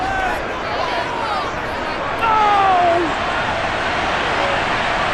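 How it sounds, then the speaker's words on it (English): Stadium crowd in Madden NFL 23 booing after a penalty flag in a simulated Dallas Cowboys versus Green Bay Packers game, a steady broad roar of discontent that swells partway through, with speech over it. "Well, the crowd doesn't like that."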